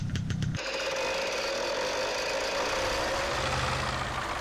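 An EO-3323 tractor engine in the video game Spin Tires turns over and settles into a steady, rumbling idle with a constant mechanical drone, close and fairly loud throughout.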